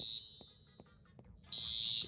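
A fire alarm in the Maple County RP video game sounds in steady high electronic tones, one at the start and a louder one at the end, with quiet background noise between.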